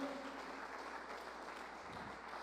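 Steady applause from a large church congregation, fairly faint and distant, continuing evenly throughout.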